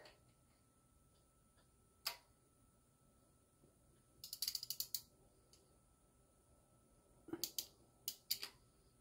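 Ratchet wrench tightening bolts on a Jaguar AJ126 3.0 V6 engine during repair, heard as a single click near two seconds, then two quick bursts of rapid ratcheting clicks, fairly faint in a quiet workshop.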